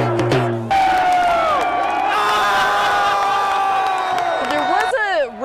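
Soccer supporters in a packed stadium crowd cheer and chant together, a loud, continuous roar with sung, tonal voices rising and falling throughout, swelling again near the end.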